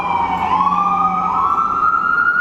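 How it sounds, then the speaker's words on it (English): An ambulance siren wails loud and close, its tone sliding steadily upward as it passes, over a low rumble of traffic. "It's an ambulance coming."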